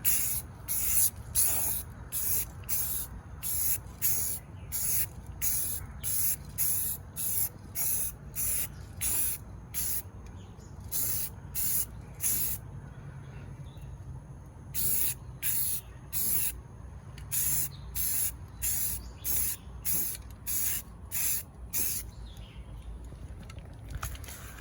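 Base coat is sprayed onto a 1999 Ford F-150 center console in short, repeated hissing bursts from a spray can, close and fairly loud, separated by brief pauses.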